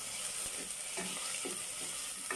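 Tomato and ginger hiss in hot oil for squid adobo, a steady bright sizzle with a few soft stirring scrapes, close and continuous.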